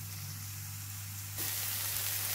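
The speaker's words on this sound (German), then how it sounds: "Jetzt werde ich das alles ein bisschen anbraten" Onions frying in a pan for a börek meat filling give a steady soft sizzle, which jumps louder and brighter partway through as the pan heats up or gets stirred, with a low hum underneath.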